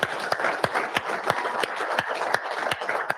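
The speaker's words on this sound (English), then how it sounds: "Let's give a round of applause for Jeff Wara," Clapping at a drivers' meeting comes as a steady, evenly spaced run of sharp claps, about three per second, moderately close with no voices over it.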